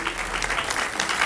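Continuous applause with ululation from a crowd at a celebration, steady and fairly loud throughout, with no clear voices rising above the clapping.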